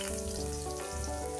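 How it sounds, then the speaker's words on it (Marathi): Chopped onion sizzling in hot oil with mustard seeds, cumin and asafoetida, a steady close frying crackle and hiss with no talk. "यात आपण आता कांदा फ्राय व्हायला टाकू."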